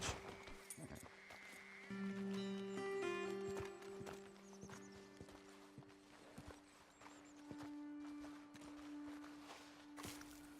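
Horses walking on a road in the video game Red Dead Redemption 2, slow irregular hoof clip-clops close by with soft snorts, set against a quiet outdoor ambience.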